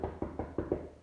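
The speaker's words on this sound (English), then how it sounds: "I'm going to start knocking on doors." Five quick, evenly spaced knocks on a door, close and fairly loud, with no voices.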